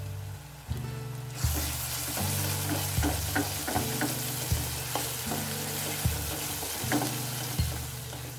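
A teaspoon of ginger garlic paste hits a pan of frying onions, bursting into a louder crackling sizzle after a quieter start, with regular scraping knocks of stirring over the hiss.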